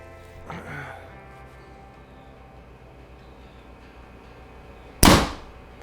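An APA Black Mamba 31 compound bow fires once in a backyard, a sharp, loud snap and thud near the end after several quiet seconds, with a brief faint rustle near the start.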